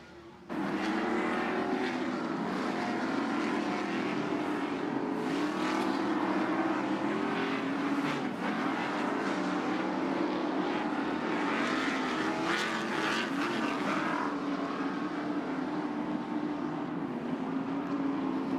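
Super Stock race trucks spin their tires on a greasy track at a Chicago sportsman racing event, producing a continuous loud engine roar with fluctuating revs that holds steady for the whole stretch.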